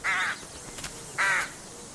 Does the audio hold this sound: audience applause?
no